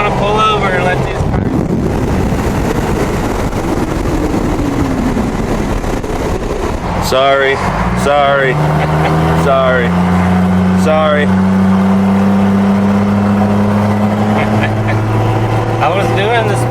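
A Jeep ZJ driving on the road, steady engine and road rumble with wind buffeting throughout, while people talk inside and a low droning engine tone rises in the second half.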